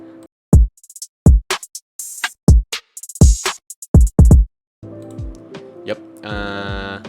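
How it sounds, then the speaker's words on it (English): A simple programmed drum beat of kick, hi-hat and clap, with punchy low kicks and crisp high hits in a steady pattern, followed by a denser synth-like layer near the end. "It's just a simple drum, kick, hi-hat, clap."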